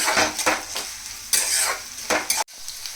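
Onions with curry leaves frying in oil in a pan toward golden brown, a steady close sizzle broken by several scraping stirs of a spoon, no voices.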